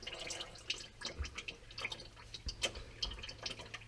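Irregular drips of used, black transmission fluid falling from a transmission line into a drain pan under a 2005 GMC Yukon, faint and scattered taps against a low garage background.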